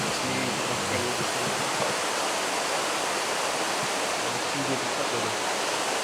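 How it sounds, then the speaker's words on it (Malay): A river rushes beside a riverside eating spot, a steady broadband roar of flowing water filling the whole clip while someone speaks briefly and faintly over it. "Tengok ni ada sungai."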